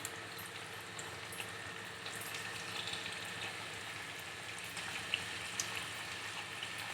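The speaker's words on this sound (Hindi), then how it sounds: "इसी तरह से बचे हुए इस रोल को हम फ्राई करेंगे।" Vegetable spring rolls fry in oil over medium heat, giving a steady, fairly quiet sizzle with faint crackles and no speech.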